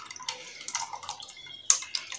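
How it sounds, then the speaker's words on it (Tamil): Dissolved tamarind water pours into a cooking pot for brinjal rice in a kitchen, making a close splashing, dripping liquid sound in uneven bursts that end with a sharper splash. "இப்போ நம்ம வந்து இந்த புளியை கரைச்சி ஊற்றிக்கலாம்."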